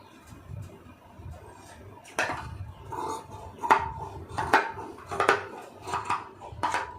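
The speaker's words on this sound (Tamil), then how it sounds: "இப்போ இந்த அளவுக்கு இதை வந்து கட் பண்ணிக்கிறோங்க." Scissors cut through cloth for a long sleeve during tailoring, giving a series of sharp, close snips that become more frequent after the first couple of seconds. Nobody speaks.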